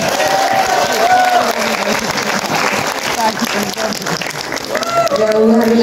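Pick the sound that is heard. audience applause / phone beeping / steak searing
audience applause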